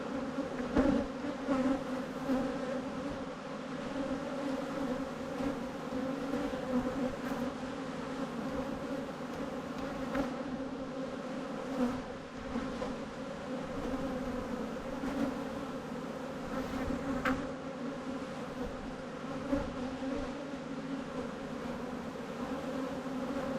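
Bees swarm and buzz at a commercial bee yard that produces nucs, a dense, continuous droning hum close by that holds steady throughout, with occasional louder passes as individual insects fly near.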